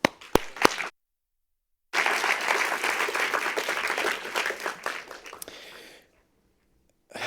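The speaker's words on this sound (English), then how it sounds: "So let's give a round of applause to Pete" Graduation ceremony audience at the Olympic Museum breaks into applause: a few sharp claps, a brief gap, then several seconds of dense, lively clapping that fades out into silence.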